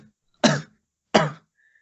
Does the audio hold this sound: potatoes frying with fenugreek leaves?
no